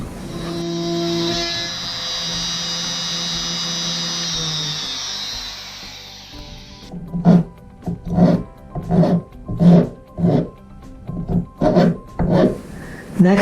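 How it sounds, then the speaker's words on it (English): A router cuts the edges and interior of a wooden workpiece in an RV. A steady high motor whine gives way to a loud run of rhythmic rasping cutting strokes, close up. "now do some routing, first the edges and then some on the interior"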